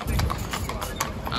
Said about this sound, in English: He's got the horse and carriage